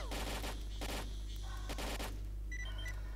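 Rapid bursts of video game gunfire crack out in several volleys over a steady low hum, with a few electronic beeps near the end.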